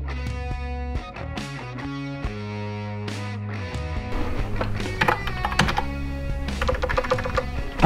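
Rapid clicking of keys being typed on a wireless keyboard, steady and close, with tonal sound running underneath.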